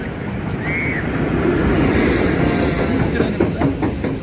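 Freight train rolls past at night near Pratteln, a loud, close, continuous rumble of wagons with clattering wheels and a brief high squeal.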